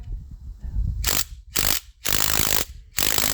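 A hand ratchet clicks in fast bursts close by, backing high-torque yield bolts out of a Chevelle engine during a teardown. Several quick runs of rapid pawl clicking are separated by brief pauses.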